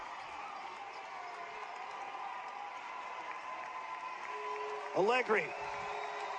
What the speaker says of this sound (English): This crowd on its feet, appreciating the effort here in the first half from this Idaho State squad